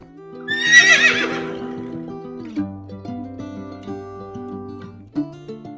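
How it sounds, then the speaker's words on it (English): Frightened horses neigh in a long loud whinny at the start, followed by scattered hoof clip-clops and a few further snorts and calls as they run through the streets. "These are when the horses got frightened and ran through the streets."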